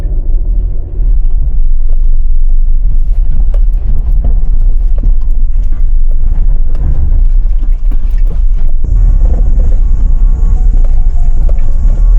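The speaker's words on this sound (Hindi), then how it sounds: "So engine क्रैंक्ड and we are ready to role." A Maruti Alto K10 car engine idles steadily close by after cranking, a continuous low rumble with a slight shift in tone near the end and no voices.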